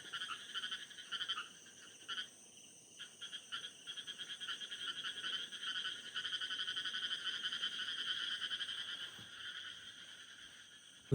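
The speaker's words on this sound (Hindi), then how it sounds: "आप सुनना मेढक की आवाज़" A dense chorus of frogs croaking steadily outdoors near fields in the evening, rapid pulsing calls layered over a faint insect hum, continuous and moderately loud with no voices.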